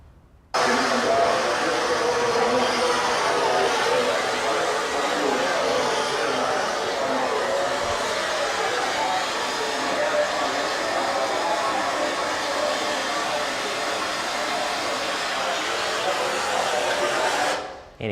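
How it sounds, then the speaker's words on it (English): A large rainfall simulator runs a test over soil slopes, one bare and one covered with jute and polymer, giving a loud, continuous roaring hiss that holds steady for most of the clip, then cuts off. "This is a test of a rain simulator by the University of Central Florida."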